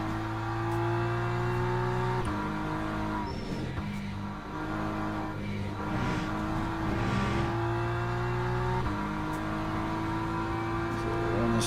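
A race car lapping a track in a Le Mans racing video game, with a steady droning engine note that shifts pitch at each gear change, constant throughout with faint background talk.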